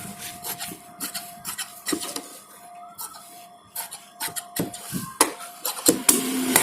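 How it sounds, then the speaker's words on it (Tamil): Scissors cutting off the side pieces of shirt fabric during shirt stitching, heard as a close series of short crisp snips and rasping rubs at an uneven rhythm, with no talking. "இந்த மாதிரி சைடில் இருக்கிற பீஸெல்லாம் வெட்டி"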